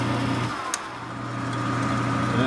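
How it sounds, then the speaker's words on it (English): Metal lathe facing off 3/16 inch brass hex stock: a steady mechanical motor hum and whine with a low tonal drone, broadband machining noise throughout, and one brief sharp tick. "The first step in making the blower nut is to chuck the 3/16" brass hex and face it off."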